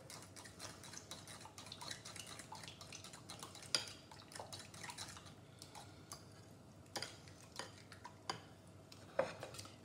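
A spoon stirs cherry tomatoes and pesto together in a baking dish, making quiet scraping and soft ticking clinks with a few sharper knocks against the dish, close and faint.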